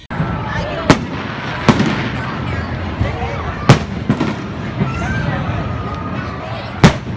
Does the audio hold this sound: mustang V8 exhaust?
no